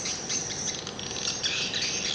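SP-type swiftlet calls from a recording form a brief, faint, unbroken wash of high buzzing chirps, insect-like and even, with no one speaking.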